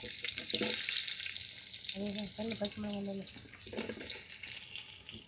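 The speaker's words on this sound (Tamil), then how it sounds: "பயங்கரமாக வதங்கிட்டு இருக்குது" Tomato, green chilli and spices sauté in hot oil for quail biryani, giving a steady, fairly loud sizzle and crackle, with a short tonal passage rising briefly over the middle.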